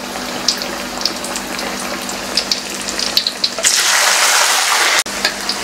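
Tempeh and tofu fry in hot oil with a steady crackling sizzle that swells louder midway, broken by a brief clatter, close up and without talk.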